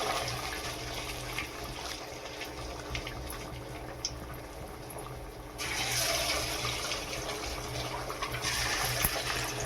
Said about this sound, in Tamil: எண்ணெய் இப்போ நல்லா காஞ்சிடுச்சு. இதெல்லாம் ஒன்று ஒன்றா போடலாம்.